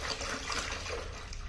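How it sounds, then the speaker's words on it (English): Distilled water is poured from a small graduated container into a bucket, making a steady, soft splashing rush for a brief moment, fairly quiet and with no talking. "Watching someone pour water."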